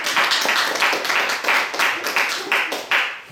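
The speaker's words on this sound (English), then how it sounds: "Ladies and gentlemen, big round of applause." Audience applause at an evening magic and music show, a steady wash of clapping with a loose pulsing rhythm that holds for a few seconds before trailing off.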